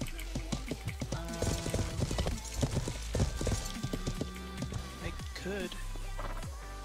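Rapid hoof clip-clops of a horse trot in a video game, along with music and game sounds, while people talk over it.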